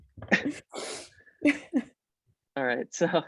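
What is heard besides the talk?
sneeze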